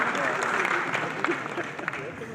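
Audience applause at a public farmers' meeting, moderately loud clapping spread across a crowd, holding steadily with scattered individual claps.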